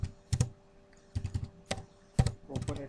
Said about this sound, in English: so I'm typing here